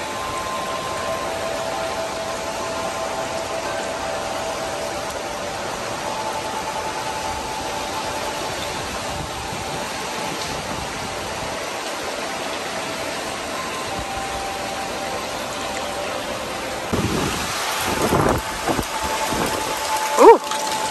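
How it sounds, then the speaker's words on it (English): An outdoor storm on a farm, with a steady broadband rain hiss running evenly throughout and a few louder rumbling bursts near the end. "Looks like a storm's coming through. Maybe we'll get some rain."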